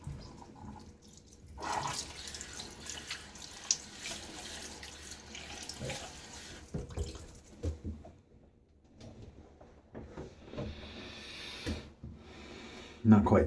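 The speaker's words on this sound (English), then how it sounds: "now I get my face wet" Tap water runs into a sink while a face is splashed and wetted for shaving, with intermittent splashes, sniffs and breaths under it and someone talking over parts of it.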